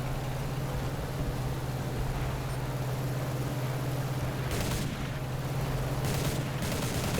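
An aircraft gun in War Thunder, fired from a P1Y1 mod. 11 bomber in realistic mode: three short tapped bursts toward the end, each brief and crisp, over a steady droning engine hum.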